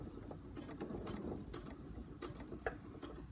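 A sewing machine stitches about five stitches through several layers of fabric while attaching a zip, giving a steady mechanical whirring with quick repeated ticks, close and fairly quiet.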